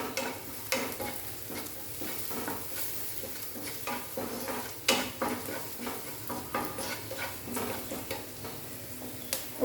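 Coriander powder frying and being stirred in a pan while making capsicum curry, with a steady sizzle under repeated scraping stirs; no one speaks.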